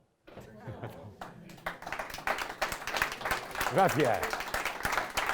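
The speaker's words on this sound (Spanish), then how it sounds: "Le damos un aplauso." Audience applause after a lecture on viticulture strategies for climate change, starting abruptly after a brief pause and building into steady clapping, with a man thanking the audience partway through.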